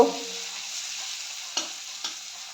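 Spices and garlic paste fry in a pan for a mutton curry, giving a quiet, even sizzle with two short scraping strokes of the spoon near the end.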